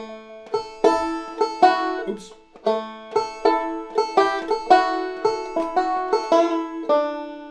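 A banjo plays a bright, rolling Scruggs-style picked pattern of Freight Train with ringing double-stop notes in a steady rhythm; a voice briefly mutters partway through.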